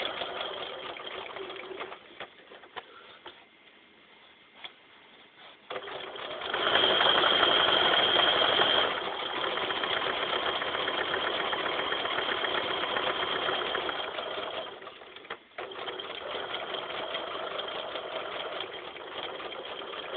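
A sewing machine stitching a T-shirt quilt as fabric is fed slowly, running in steady mechanical bursts that start, pause and resume, close and fairly loud with no talking.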